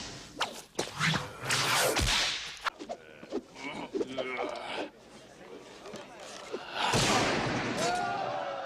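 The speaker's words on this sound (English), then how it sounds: "we built up a library of whip cracks, which was the basis for Indy's sound." Several sharp whip cracks snap at irregular intervals, loud and close, with whooshing swings between them and someone speaking.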